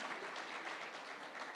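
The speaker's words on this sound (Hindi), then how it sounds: "पहले तो जोरदार तालियां इस मुद्दे पर" Steady, dense applause from a large audience at a summit event, fairly faint and distant, continuous with no clear individual claps standing out.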